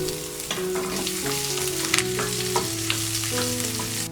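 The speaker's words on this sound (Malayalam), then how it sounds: "ഒരു ടേബിൾ സ്പൂൺ വെളുത്തുള്ളി ചെറുതായിട്ട് ചോപ്പ് ചെയ്തതും കൂടെ ചേർത്ത് വഴറ്റി കൊടുക്കണം" Finely chopped garlic sautés in hot oil for a fenugreek leaves dal curry, a steady close sizzle with occasional stirring scrapes while soft musical tones play in the background.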